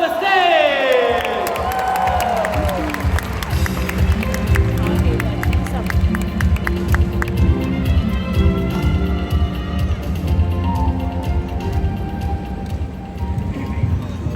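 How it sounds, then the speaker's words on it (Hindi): The crowd at the opening ceremony of the 53rd International Film Festival of India in Goa cheers and whoops as Kartik Aaryan is welcomed on stage. The roar is loud and sustained and mixed with shouting voices and music. "तालियों के साथ स्वागत करो प्लीज गोवा"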